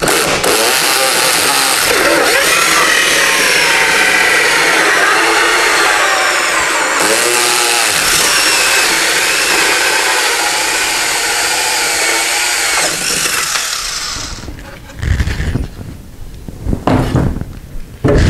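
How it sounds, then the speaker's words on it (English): A power drill fitted with a template cuts a round hole through a wall. A loud, continuous whirring grind holds steady for about fourteen seconds, then cuts out, followed by a few scattered handling knocks. "now your template will keep your drill from walking around while you're drilling"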